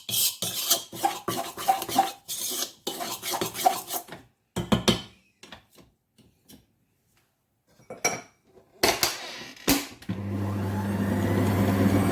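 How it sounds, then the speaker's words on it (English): Butterscotch cookie dough, dry and not yet sticky, is worked in a bowl with repeated rasping scrapes and rubbing strokes in uneven bursts, then a quiet pause, more scraping, and a steady low hum at the end. "Just a bit more mixing."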